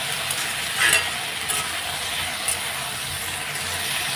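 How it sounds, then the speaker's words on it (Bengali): Green chillies fry in a pan on a home stove with a steady broadband sizzle and hiss, broken by a few brief clinks and scrapes of stirring; no one speaks. "এবার আমি হালকা হালকা করে ভেজে নেব"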